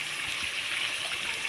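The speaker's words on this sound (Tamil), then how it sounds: "தண்ணி ஊற்றிக்கிட்டாங்க." Water pours steadily into a pot during village-style fish curry preparation with coconut, onion and spice powders, a continuous close splashing rush with no talk.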